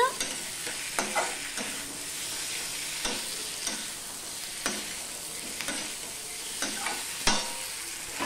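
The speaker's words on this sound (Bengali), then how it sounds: "হলুদটা দিয়েও আমি মিশিয়ে নিচ্ছি, দেখতেই পাচ্ছ।" Turmeric being stirred into potatoes and tomato frying in a pan: a continuous soft sizzle broken by regular scraping strokes of the spatula, with no talking.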